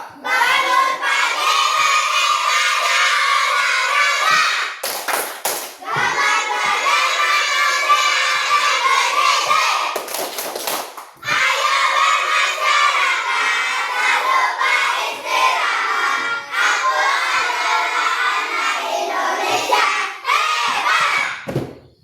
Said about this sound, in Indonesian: tadi anak-anak Bapak sudah ya tepuk kebiasaan 7 anak-anak Indonesia hebat ya